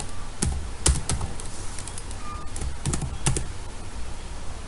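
Keys clatter on a computer keyboard during Node.js coding, with sharp, irregular clicks and short bursts of several keystrokes over a low background hum.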